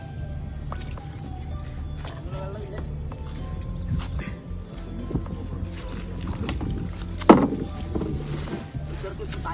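A small rowboat moves through a flooded paddy field, with gentle water sloshing, drips and a wet thud of the hull or pole, close by, while voices are heard at moments.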